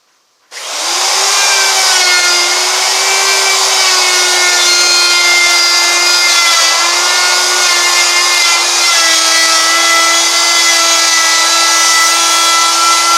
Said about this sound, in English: here I've got a 1/2-inch round over bit, and I'm going to round over these corners